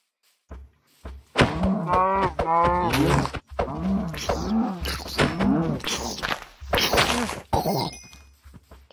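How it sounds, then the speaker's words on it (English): Several drawn-out cow moos in a video game follow one another closely, loud and near, with soft thumps in between. "Oh, cows."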